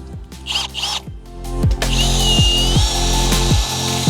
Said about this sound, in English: I'm actually gonna get in there with the drill brush now.